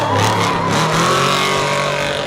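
An off-road race vehicle pulls in at the Baja 1000 finish line, its engine roaring loudly and close with a shifting pitch, tire noise and a bit of crowd noise behind it.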